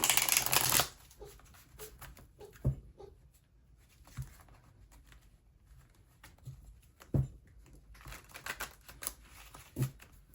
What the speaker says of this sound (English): let's give the deck a shuffle